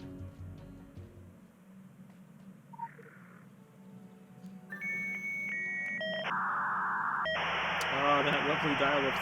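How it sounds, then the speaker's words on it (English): A dial-up modem handshake in a video game: faint hum, then stepped electronic tones and a loud burst of hissing screech near the end, with quiet speech early on. "that lovely dial-up sound"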